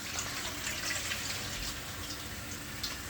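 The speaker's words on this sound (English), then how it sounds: "With a bit of water to it." Water is poured into a pot of stewing pork for brown stew, making a continuous close splashing, trickling wash that stays level throughout and has no voices over it.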